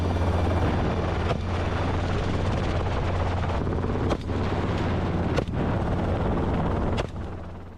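Loud, continuous helicopter rotor and engine roar from close by during aerial wild boar hunting, with several sharp bangs like gunshots cutting through at irregular moments.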